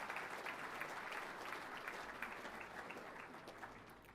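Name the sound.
applause at a club luncheon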